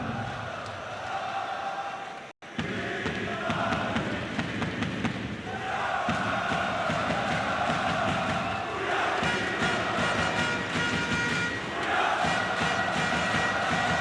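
A crowd roars and chants in an esports arena at the IEM Kraków grand final between FURIA and Vitality, with sustained cheering that swells in waves under a commentator's voice.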